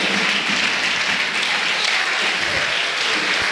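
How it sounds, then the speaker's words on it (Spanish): Church congregation at a Holy Spirit tribute service claps loudly for the King, a thick, sustained roar of applause filling the room without pause. "Dale el aplauso al Rey."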